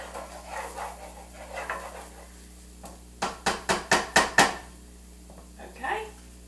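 Two cloves of minced garlic are stirred in a pan for pasta primavera. A utensil scrapes softly, then strikes the pan six times in a quick, evenly spaced series of sharp metallic clacks, with a few softer knocks around them.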